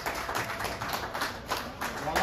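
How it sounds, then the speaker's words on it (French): Guests at a civil wedding clap for the groom in a short burst of scattered, uneven hand claps, moderately close, with a voice speaking over them. "Voilà, applaudissez pour le monsieur."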